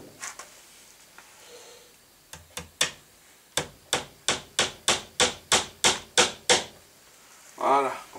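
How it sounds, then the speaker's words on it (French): A small nail driven into pallet wood with a hammer: a few scattered taps, then a quick run of about ten sharp, even blows close by, followed by a brief voice. "On renquille un petit clou."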